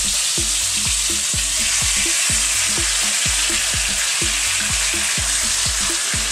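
Spicy Jamaican-style chicken pieces fry in oil in a pan, giving a steady loud sizzle with a rhythmic series of soft thuds and scrapes as the pieces shift, with no voices.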